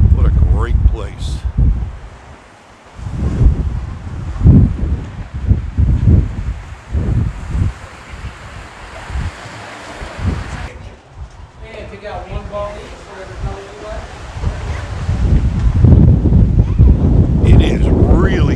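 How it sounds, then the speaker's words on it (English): Strong wind buffets the microphone outdoors at a fantasy-themed mini golf course, loud rushing gusts rising and falling with a few brief bursts of other noise between them. "It is really windy today."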